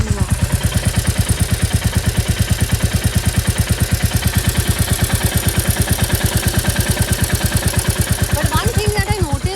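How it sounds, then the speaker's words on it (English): Royal Enfield Classic 350 single-cylinder engine idling close by, a loud, evenly spaced thumping beat held steadily throughout, with a faint voice or other sound appearing briefly near the end. "I'll be silent for some time so that you can notice that engine thump out here."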